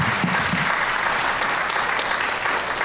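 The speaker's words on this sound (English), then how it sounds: "Let's give the panel another round of applause" An audience at a forum applauds a panel with sustained, dense clapping that holds steady for a few seconds, filling the room evenly.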